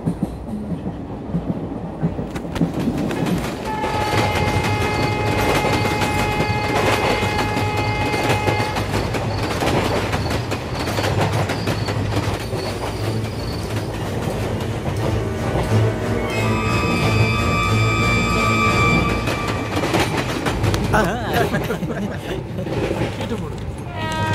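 Train running on rails during a slow ride toward a station, a steady rumbling roll with rhythmic clatter and occasional high tonal squeals, continuous and fairly loud, with music and voices over it.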